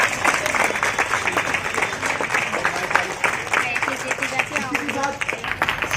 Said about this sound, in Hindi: एक बार जोरदार तालियां इन सभी के लिए।